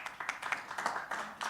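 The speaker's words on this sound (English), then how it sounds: "Just giving them a clap." Audience at the Smartphone for Africa Summit giving the organizing team a round of applause: a short, fairly soft patter of overlapping claps from a room of people, with no one speaking over it.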